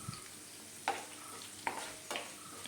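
Curry leaves sautéing in a pan for pickle, a faint quiet sizzle broken by a few sharp spoon taps and scrapes as the mix is stirred.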